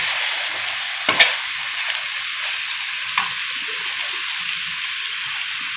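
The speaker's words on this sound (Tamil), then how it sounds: "கத்திரிக்காய் ஒரு 3 நிமிஷம் நல்லா வதங்கிடுச்சு. நல்லா கலந்து விட்டுக்கோங்க." Brinjal pieces sizzle steadily in hot oil while being stirred for an oil brinjal gravy, with a couple of sharp spoon clatters against the pan early and another light knock later, no voices.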